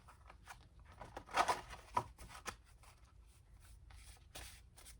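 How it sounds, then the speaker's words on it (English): A deck of tarot cards is shuffled and split by hand, giving soft, close rustling and brisk riffling bursts with a few sharper card snaps, quiet overall with no talking. "I'm just going to split the deck."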